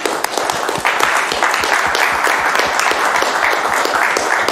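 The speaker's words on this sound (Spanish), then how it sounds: "aplaudí si quieres, tranquilo" Audience applause at a municipal event in Salto, steady dense clapping sustained throughout at moderate volume with faint voices beneath.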